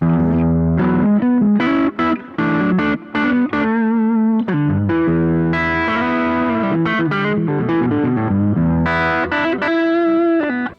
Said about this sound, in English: the overdrive just gives you this kind of sheen and this nice harmonic richness